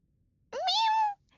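A single drawn-out meow, voiced by a person imitating a cat, rises then holds briefly against near silence.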